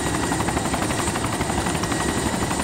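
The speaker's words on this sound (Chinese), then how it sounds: "这边有直升机，直升机好多" A helicopter in the DayZ video game flies with a steady, loud rotor thump and engine whine that holds constant throughout, with no talking.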